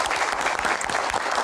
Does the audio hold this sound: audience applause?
yes